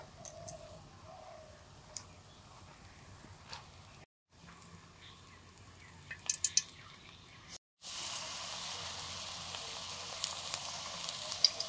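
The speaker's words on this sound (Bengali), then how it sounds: "বড় বড় বড়া সাইজে ভেজে নিচ্ছি।" Cabbage and gram flour fritters deep-frying in oil give a faint, steady sizzle with occasional drips and pops. The sound drops out briefly twice, then returns as a brighter, louder hiss.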